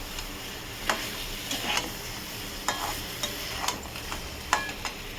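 Prawns are stirred in a hot pan with ground spice paste, a soft sizzle underneath repeated crisp spatula scrapes and taps that come every second or so.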